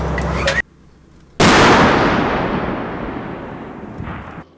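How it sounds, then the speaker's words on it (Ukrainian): A Polish-supplied 155 mm howitzer fires a single loud, booming shot that rolls out into a long decaying rumble, preceded by a short burst of other noise and followed by a faint echo. "Такі 155 міліметрові гаубиці для допомоги Україні надали польські партнери."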